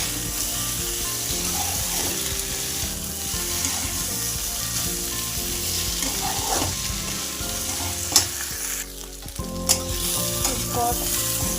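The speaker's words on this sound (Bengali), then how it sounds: "ভাজা ভাজা হওয়ার পরে আলুগুলো দিয়ে দিয়েছি, দিয়ে এবার এগুলোকে ভালোভাবে নাড়তে থাকবো।" Potatoes fry in a pan with tempering spices, sizzling loudly and continuously while a utensil stirs and scrapes them with occasional clattering knocks.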